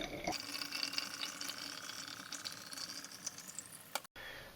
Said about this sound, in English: I filled this with nectar, not all the way to the very top, but to the bottom of the threads here